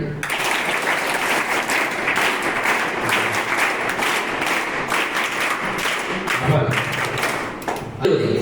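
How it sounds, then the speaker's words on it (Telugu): An audience applauding during a speech at a school event, dense sustained clapping filling the room at a steady loud level for several seconds. "చప్పట్లు కొట్టండి"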